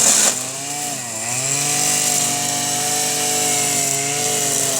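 Loud chainsaw cutting trees about three metres tall, its motor whining steadily close by with a brief dip in pitch as the chain bites into the wood, then holding a high sustained buzz.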